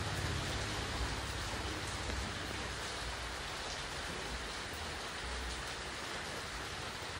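Steady rain falling in Kerala during the monsoon, a dense, even hiss of drops on surfaces that continues unbroken and fairly loud throughout, with no voices.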